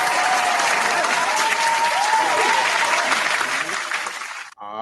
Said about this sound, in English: Round of applause to Katt.